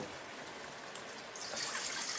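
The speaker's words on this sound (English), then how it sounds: "And I'll also add a little bit more water." Water being added to a pot of curry chicken feet: a short, steady trickle and pour of liquid that grows slightly fuller toward the end, close and fairly soft.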